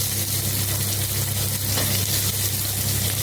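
Garlic and onion fry steadily in a hot pan, a dense, even sizzle that holds close and loud throughout with no talk over it.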